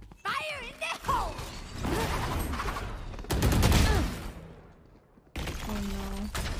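Bursts of rapid P90 submachine gun fire in a multiplayer shooter video game, loud and close, mixed with mechanical clatter and game sound effects between the shots, with a stretch of near silence before a final burst.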